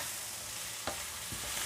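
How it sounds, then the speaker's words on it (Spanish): Mushrooms cooking with leek and onion in a pan give a steady, soft frying hiss, broken by two brief scrapes as the mix is stirred, with no talking. "Vamos a esperar que se hagan los champiñones un poquito con el puerro y con la cebolla"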